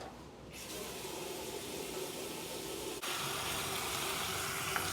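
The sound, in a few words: washing hands with water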